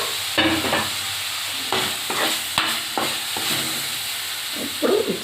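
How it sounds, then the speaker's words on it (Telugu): Chicken pieces going into a pan of sizzling fried ginger, with a steady hiss of frying and a few clattering stirs and scrapes close by. "బాగా అల్లం కొంచెం వేగింది కాబట్టి ఇప్పుడు చికెన్ వేసేసుకుందాం"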